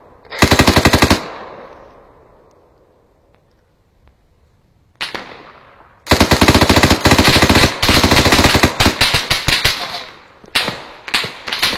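Automatic gunfire from a video game firefight, loud sustained bursts that stop for a few seconds with faint background, then resume and hammer on in long rapid volleys, with someone talking briefly between bursts.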